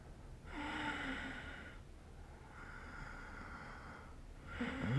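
Slow, deep breaths drawn in and out during a gentle yoga flow, close to the mic: two long airy inhale-exhale cycles, soft and steady, with no talking.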